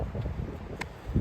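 Wind gusts across an open golf course, a low, steady rumble buffeting the microphone with one brief higher rustle.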